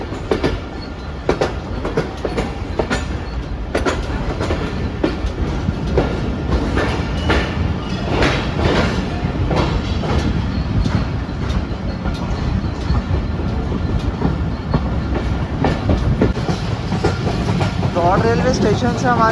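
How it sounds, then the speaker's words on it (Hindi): The Pak Business Express 33UP passenger train runs from the loop line onto the main line, and a loud, steady rumble fills the ride with repeated clickety-clack wheel beats on the rails. "और लूप लाइन से आप मेन लाइन पर दाखिल हो चुकी है हमारी ट्रेन"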